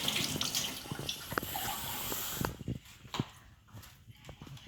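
Warm water runs from a tap in a steady, close rush for a couple of seconds, then cuts off, leaving scattered clinks and handling noises.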